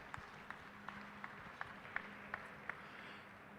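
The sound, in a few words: audience applause at Iowa Beef Expo show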